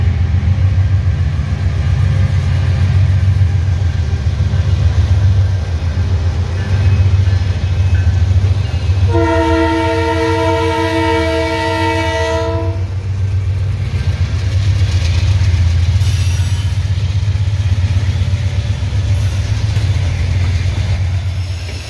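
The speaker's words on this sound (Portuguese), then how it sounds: "bora acompanhar o trenzão com os novos vagões FLF da VLI e LD Celulose" A heavy freight train hauling new VLI FLF wagons for LD Celulose rolls past with a continuous loud rumble, and a long multi-tone horn blast sounds for a few seconds partway through.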